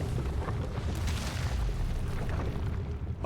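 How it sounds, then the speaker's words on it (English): Explosions rumble in the video game Outer Wilds, a sustained deep booming roar with low rolling bursts that stays loud and dense for several seconds with no talking. "Oh gosh, explosions."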